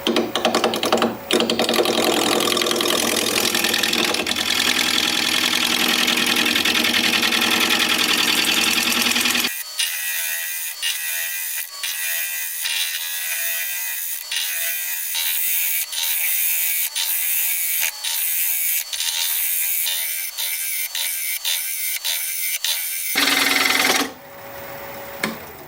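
A wood lathe spins a wooden candy dish while a gouge shapes its bottom. A continuous, close whirring hum carries steady cutting noise, then thins to a lighter rhythmic ticking rotation before the cutting sound briefly returns.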